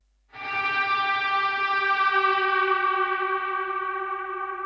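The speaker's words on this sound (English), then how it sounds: "super evil lead synth" A single sustained Serum synth lead note with a harsh, buzzing, distorted tone and rich harmonics, starting abruptly and holding steadily loud with echoey effects.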